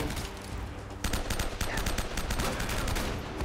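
Rapid bursts of gunfire crackle continuously, sharp repeated sniper rifle shots in Uncharted: Drake's Fortune, a dense, loud soundscape with no pauses.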